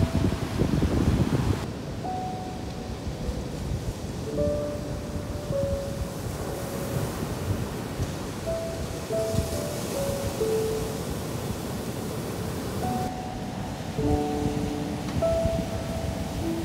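Surf rolls and breaks on an empty beach along the coast path, a continuous broad wash of waves with gusts of wind, heard from close range with no voices.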